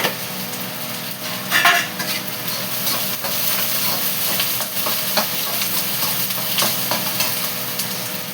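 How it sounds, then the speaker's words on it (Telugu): Cumin seeds crackle and sizzle in hot oil in a pan for an okra stir-fry, a loud, steady hiss that continues throughout, with occasional clinks from stirring. "కొంచెం జీలకర్ర వేసుకుందాం"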